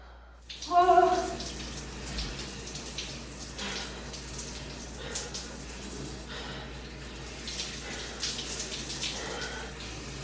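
A person climbs into a cold plunge tub, setting off a burst of splashing and sloshing water followed by quieter, intermittent trickling and lapping.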